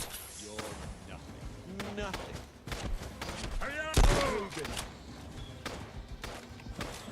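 Gunfire in the video game Fallout: London: several sharp shots scattered through the clip, one heavy blast midway, mixed with footsteps and other game effects.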